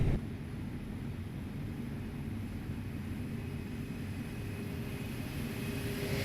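Steady broadband engine roar of an aircraft flyby inside an Airbus A321neo flight simulator, a continuous loud rumble that holds level throughout with no voices.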